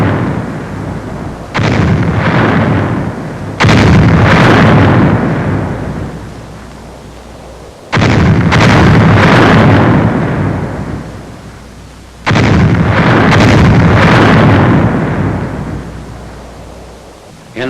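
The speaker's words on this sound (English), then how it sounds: "Final shelling of the town is directed by the 7th Field Artillery Observation Battalion." Artillery shelling of a town in November 1944, the wartime bombardment coming as heavy booming blasts in several bursts, each rumbling and decaying, with no talk.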